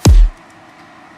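Two layered electronic kick drums, one widened to stereo, hitting together as a single deep, punchy boom that drops off quickly into a faint low rumble, alone and up front.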